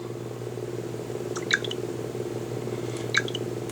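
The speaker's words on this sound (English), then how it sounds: "you get a nice little water drop sound." Two soft, bright water-drop chimes from a Samsung Galaxy S3 lock screen, spaced about a second and a half apart, over a low steady hum.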